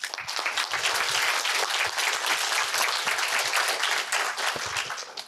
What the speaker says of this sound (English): So a quick round of applause for our 3 master's students.